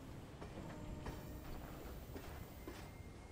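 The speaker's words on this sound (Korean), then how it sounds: "어, 아까 우리 타고 온 기차인가?" Rattling, clanking train in the video game Lost Planet 2, a steady low rumble with irregular metallic knocks and clacks, moderately loud and continuous with no talk.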